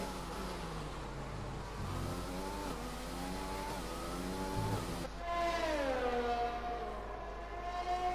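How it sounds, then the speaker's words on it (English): Formula 1 cars in the F1 2020 racing game at the Chinese Grand Prix rev with high, whining engine notes that rise and fall through gear shifts and get louder as a car passes close by. "Gotta love the sound of the cars, absolutely love it."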